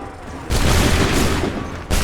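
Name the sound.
musket volley fired by soldiers in Assassin's Creed 3 video game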